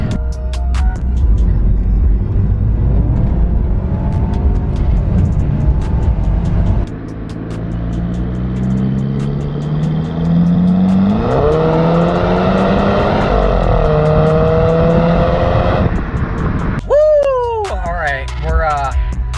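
Audi A4 with a Stage 2 CTS Turbo exhaust accelerating hard in open space, rumbling then rising steadily through revs to a loud roar, cutting off before a shout; a person talks near the end.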